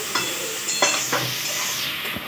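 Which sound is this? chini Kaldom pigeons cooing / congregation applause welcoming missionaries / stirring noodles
stirring noodles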